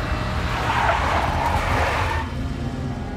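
A big black Mercedes skids in the Max Payne video game, a loud, sustained tire screech over engine rumble that swells and then fades toward the end.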